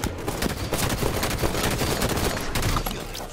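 Rapid gunfire from the Halo 5 video game in a capture-the-flag match, a dense burst of loud automatic shots crackling continuously for a few seconds.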